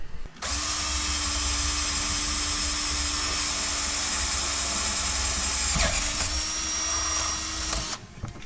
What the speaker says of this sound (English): So we're gonna get that drilled.